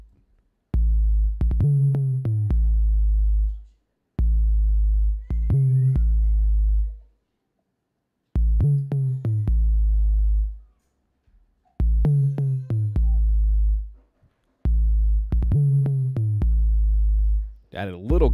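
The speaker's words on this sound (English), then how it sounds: "Added a little glide, that's why you can kind of hear the boom boom boom" Deep 808 sub bass notes with pitch glide boom through a beat in five repeating phrases, each a cluster of loud, sustained low hits with a faint high tick above, separated by short gaps of silence.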